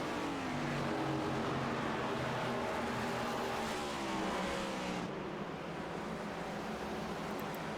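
Stock race cars roar past on an oval track during an HTL Cup Series race in Miami, a loud continuous engine drone with swelling pass-bys and no talk over it.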